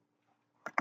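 Computer mouse double-click: two quick, close, fairly faint clicks near the end, after near-silence.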